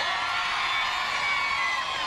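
A festival crowd at an outdoor event in Jubilee Park, Edmonton, London, cheering for the musicians, a steady wash of whoops and shouts held at an even level without a break.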